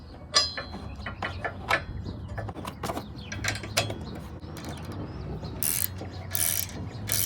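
Ratchet tightening a bolt on a Curt 13333 hitch receiver under a 2017 Ram 1500, rapid clicking pawl strokes in short bursts, close and crisp, with no talk.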